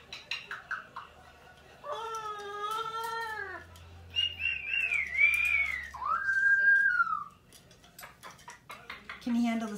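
A pet bird gives loud, sweeping whistled calls and a few shrill squawks indoors, with clicks and clatter between them and a person talking nearby.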